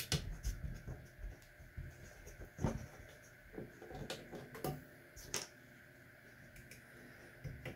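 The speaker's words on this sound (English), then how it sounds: "So three screws, unscrew them." Screws being backed out of the housing of a Sunlu S8 3D printer, a run of small close metallic ticks, clicks and light scrapes at an uneven pace, with a few sharper knocks of the tool against the frame.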